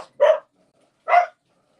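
Two short, sharp dog barks ring out alone about a second apart, close and clear against silence.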